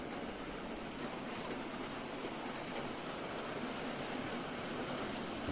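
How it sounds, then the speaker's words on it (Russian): Heavy rain pours steadily in a village during a fishing outing, a dense, even hiss with no pauses, fairly loud and alone without voices. "Дождь херачит"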